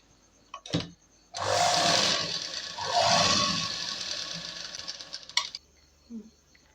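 A sewing machine stitching a skirt to its lining runs in a steady whirring burst of several seconds, close and moderately loud, with brief handling clicks before and after.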